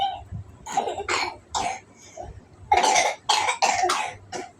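A child coughs repeatedly in short, hoarse bursts, a few spaced single coughs followed by a tight cluster of rapid coughs, close and loud with no talking.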